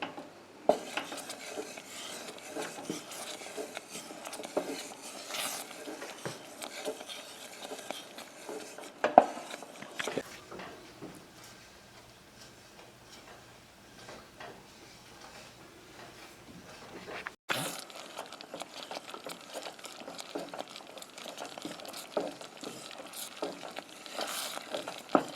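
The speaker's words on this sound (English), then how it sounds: "I'm going to continue stirring for about 2 minutes" A spoon scrapes and clinks around a pot of boiling graham cracker bar mixture in continuous stirring, with a soft bubbling, sizzling undertone throughout; close and fairly quiet.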